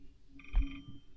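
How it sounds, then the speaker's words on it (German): A single short telephone ring, a brief electronic bell burst indoors over a low room hum, fairly faint and alone without any talking. "Wo ist das scheiß Telefon?"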